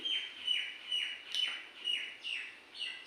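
A small bird chirps outdoors in a regular series of about seven bright, clear calls spaced roughly evenly, fairly near, over a quiet background.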